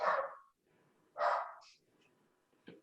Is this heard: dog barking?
yes